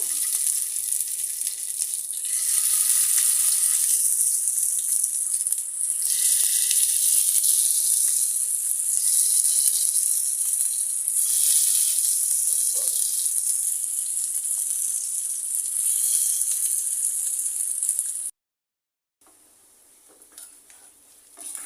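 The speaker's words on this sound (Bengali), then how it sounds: "তেল গরম হয়ে গেছে মাংসগুলো দিয়ে দিব" Beef pieces fry in hot oil for a Pakistani-style fried beef recipe, giving a steady, loud, close sizzle that runs unbroken for most of the clip. It cuts out briefly near the end, then returns more faintly.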